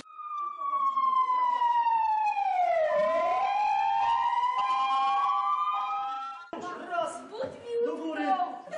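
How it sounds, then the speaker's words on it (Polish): A fire station siren at a volunteer fire brigade wails loudly and close, its pitch falling and then rising again in a long sweep, followed by voices and commotion as the siren stops. "kiedy zaczyna być syrena"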